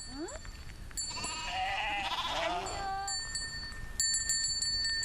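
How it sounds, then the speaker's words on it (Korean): Alpine goats bleat near an Austrian mountain village, with one loud, wavering bleat close by, faint bell-like tinkles afterwards and a person speaking nearby. "그곳에서 우연히 길을 걷다 만난 알프스의 염소들."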